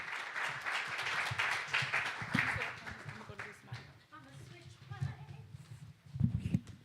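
A crowd claps for the panelists at a political participation event, a steady wash of applause fading partway through while a voice speaks over it.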